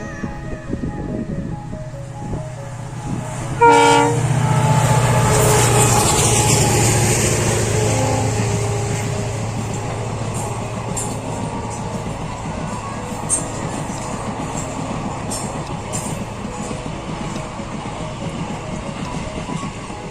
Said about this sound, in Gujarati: ગાડી આવે છે.